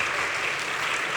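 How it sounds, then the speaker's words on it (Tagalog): A church congregation at a Sunday service claps steadily, a dense, even wash of applause that fills the room with no break. "Yung palakpak para sa ating Diyos."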